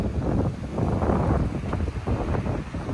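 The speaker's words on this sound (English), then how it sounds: "the wind!" Strong wind roaring steadily across an outdoor scene, buffeting the microphone with continuous low rumbling gusts throughout, loud and close with no voices.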